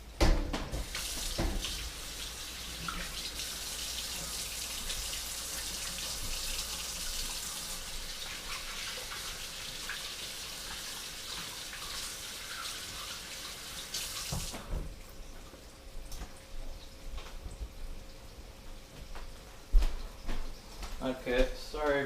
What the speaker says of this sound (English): I'm gonna wash my hands, seeing as how I was just touching raw meat.